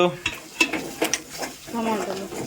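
A spoon stirs turmeric into fish curry in a pan, making several quick scraping strokes and clinks against the metal over a soft sizzle, with brief talk in between.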